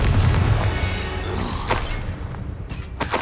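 A Confringo blasting spell from Hogwarts Legacy erupts in a heavy, rumbling boom up close, followed by decaying rumble and a couple of sharper crackling bursts, with no voices.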